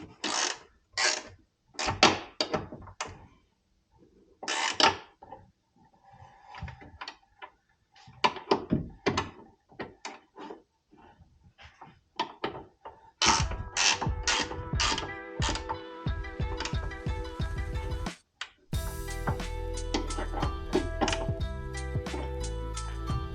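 Bolts are snugged up on a truck light bracket for overlanding lighting, with a ratchet clicking in short bursts and pauses, then faster continuous ratcheting, close and fairly loud with no talk.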